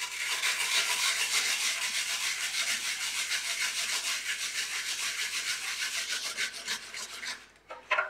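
Nagaimo yam grated on a flat grater with no back, a steady close rasping scrape that repeats in quick strokes for about seven seconds, then slows and thins out at the end.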